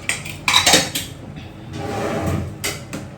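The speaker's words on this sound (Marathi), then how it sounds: "in comes the cooker" Pressure cooker set down on a gas stove: a few loud metallic clanks and bumps, then a softer scraping shuffle and two more knocks.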